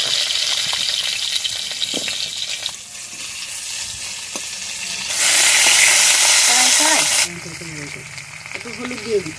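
Green chilli, tomato and potato fry in a pan with a steady, loud sizzle that surges into a bright hiss midway, then settles with scraping stirs.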